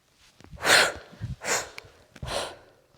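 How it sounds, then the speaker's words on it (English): Three forceful, rhythmic breaths, sharp exhales with short inhales between, come from a person doing kettlebell swings, close and loud with no talk. "Hear my breathing here."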